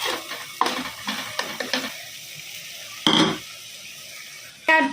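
Soaked broken wheat tipped into a hot pan, a series of close scrapes, clinks and stirring knocks with a brief sizzling burst near the middle and another clatter at the end.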